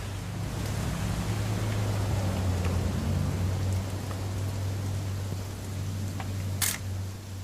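Steady rain in a video game, What Remains of Edith Finch, patters over a low, constant hum, with a few faint clicks and a brief bright burst near the end.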